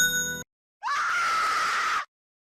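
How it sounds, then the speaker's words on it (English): A single sharp, high scream from a character in the Sonic.EXE horror fan game lasts about a second, heard alone after a short burst of game music and silence. "Why was the scream here changed but not the one for Knuckles?"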